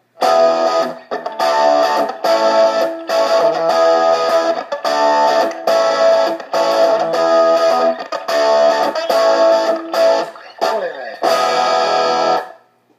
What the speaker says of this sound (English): This is a DS1 distortion pedal.